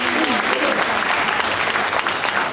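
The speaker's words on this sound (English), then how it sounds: "Yeah, clap that up." Applause from a convocation audience fills the room in a steady, dense wash of clapping, with a faint voice partly audible under the clatter of hands.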